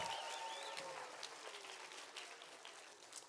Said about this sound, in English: how about a nice round of applause for our kindergartners?